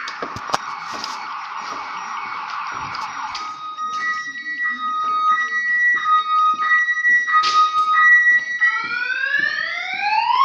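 A home security alarm siren wired through a relay gives loud electronic wailing tones, first a buzzing two-tone pulse, then regular stepped beeps, ending in rising sweeping whoops, close and insistent.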